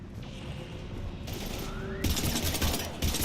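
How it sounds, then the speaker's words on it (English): Sustained automatic gunfire in Mass Effect 3 combat against Husks, a dense continuous fusillade that intensifies midway, with a mechanical whine rising in pitch just before the heaviest bursts. "we're taking heavy fire"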